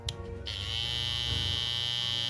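A Babyliss Pro Skeleton FX hair trimmer switches on after a few brief clicks and settles into a steady, close electric buzz with a bright high whine, running continuously.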